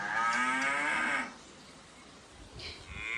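A person imitates a cow's moo, using it to make a horse prick its ears forward; one loud drawn-out voiced moo close by, followed by a fainter trailing call.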